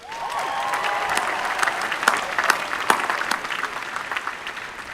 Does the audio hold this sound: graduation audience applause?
yes